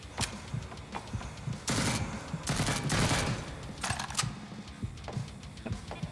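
Rifle gunfire in the video game Jupiter Hell: several sharp shots and short bursts cracking out at irregular intervals over a low background.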